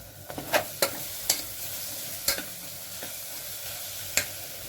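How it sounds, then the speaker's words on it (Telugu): Onion stalk curry being stirred in a covered pan, with a spoon scraping and knocking in a handful of sharp, irregular strokes over a steady low sizzle. "ఇప్పుడు మూత వేసి కలుపుకోవాలి"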